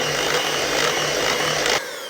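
An electric mixer blends apple cake batter for a cinnamon apple cake, a steady close whirring hum that runs evenly, then cuts off abruptly near the end.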